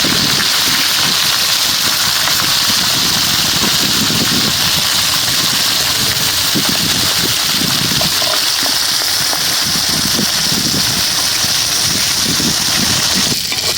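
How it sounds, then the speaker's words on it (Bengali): A big pond fish fries in oil at the edge of the pond, producing a loud, dense, continuous sizzle that runs unbroken throughout, rough and steady with no talk over it. "প্রথমেই বড় মাছটা ভেজে নিই।"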